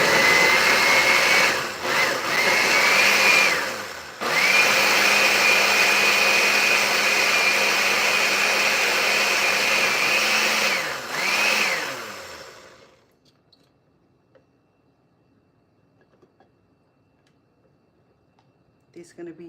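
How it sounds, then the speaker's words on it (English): A kitchen blender whirs at a loud, steady pitch while blending mangoes and yogurt, with one brief dip in speed, then shuts off and leaves near silence. "Because it has mangoes and yogurt blending."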